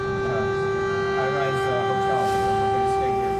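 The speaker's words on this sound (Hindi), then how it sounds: "खतरे की चेतावनी देने वाला सायरन जैसे ही बजा" Air raid warning siren in Ukraine holding a steady, droning tone throughout, continuous and unbroken over a constant background hum.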